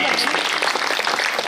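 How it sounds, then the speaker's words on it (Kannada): Applause welcomes guests at a Jain Panchakalyana consecration festival, a dense, loud wash of clapping from a large crowd running underneath a speaking voice. "ಇವರಿಗೂ ಕೂಡ ನಿಮ್ಮೆಲ್ಲರ ವತಿಯಿಂದ ಚಪ್ಪಾಳೆ ಮುಖಾಂತರವಾಗಿ ಸ್ವಾಗತವನ್ನು"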